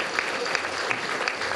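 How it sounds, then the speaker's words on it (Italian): Audience applause at a ceremony in Bisignano granting honorary citizenship to Frank Bisignano, a steady, dense patter of clapping hands filling the short moment with no voices heard. "Frank Bisignano, che lo salutiamo con un caloroso applauso"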